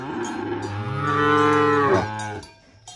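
Cattle at a Paraíba dairy farm in the sertão, at late-afternoon feeding time, give one long, loud, close moo that rises and then falls away, with nothing else over it.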